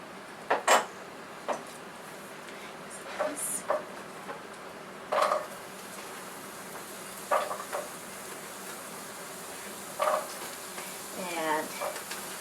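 Ginger, garlic and onion sizzle quietly in a hot pan as a steady background hiss, broken by scattered clinks of a utensil stirring against the pan.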